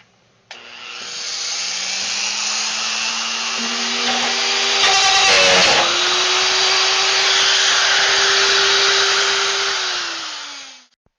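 A RotoZip spiral saw cuts a roughly 3.5-inch hole in a plastic barrel for a wind turbine build, a loud continuous high-pitched whine that starts abruptly, runs steadily with a brief rougher grinding stretch midway, then winds down.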